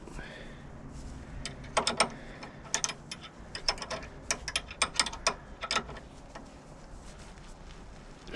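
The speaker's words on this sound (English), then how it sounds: "So we need a 12mm spanner" A 12mm spanner works the nut on an anti-roll bar drop link of a 2008 Citroen C1, giving bursts of sharp metallic ratcheting clicks close up in an otherwise quiet setting.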